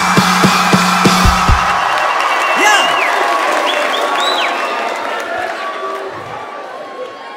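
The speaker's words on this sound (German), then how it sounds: "Ihr wart das lauteste Publikum" A loud concert audience in Lausanne cheers and applauds as a set ends, with sharp claps at first fading into a sustained crowd roar and scattered whistles while a voice speaks briefly over it.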